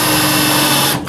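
Power drill with a counterbore/countersink bit pre-drilling a hole in wood for flathead screws during a build, a steady close whining buzz that cuts off abruptly near the end.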